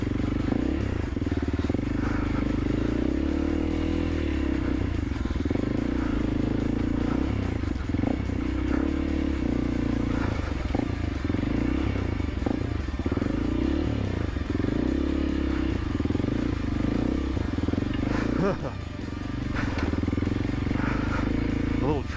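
A 2024 Honda CRF 300L dirt bike's engine clattering and revving as its rear tire catches and spins on logs on a wooded trail, a steady close rumble with repeated bursts of throttle and scraping knocks.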